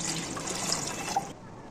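Water is poured steadily into a container for a cucumber pickle marinade, a close, continuous splashing trickle that stops abruptly near the end.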